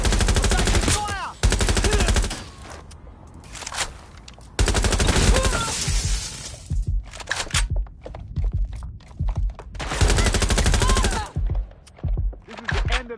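Heavy automatic gunfire from the Watch Dogs: Legion video game, long loud bursts and sporadic shots with brief gaps and faint in-game voices underneath.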